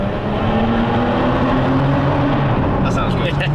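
Aston Martin DBS V12 engine revving inside a tunnel, a loud steady drone with a sustained engine tone throughout, echoing in the enclosed space, with people's voices briefly near the end.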